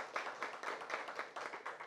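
Audience applause at a book launch for a rosary prayer book, a steady wash of many hands clapping, fairly faint and continuous with a slightly pulsing rhythm.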